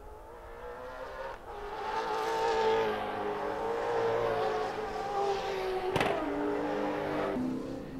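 An ex-John Player Special BMW M3 Group A race car roars past at high revs at Sandown, the loud drone holding steady before a sharp burst near the end, with no talking.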